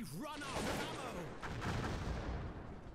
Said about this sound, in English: Throw grenades, shoot!